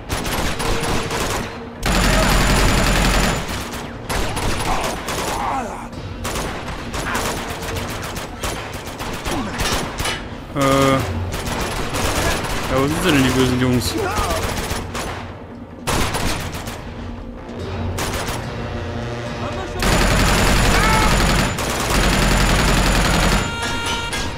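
Gunfire in the video game Uncharted 2, with dense, loud bursts of automatic shots and single cracks coming in waves through a firefight, amid game noise.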